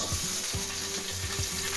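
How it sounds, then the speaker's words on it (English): Garlic, capers and olives sizzle and crackle steadily in a hot pan for puttanesca, close up, with a few soft scraping stirs breaking through the frying hiss. "sizzling away"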